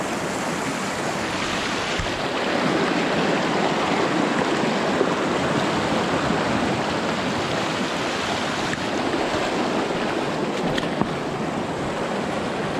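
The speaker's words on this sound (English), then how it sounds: "I'm gonna cross this river here to check out this hot springs" A river rushes and splashes steadily as someone wades across it on foot in combat boots on the way to a Colorado hot spring, a continuous close broadband roar with no pauses.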